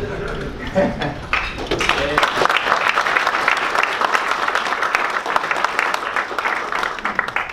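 An audience at an energy engineering event on microgrids and resiliency breaks into applause after a speaker introduces a Mass Maritime Academy attendee; brief talk first, then steady crowd clapping that continues to the end.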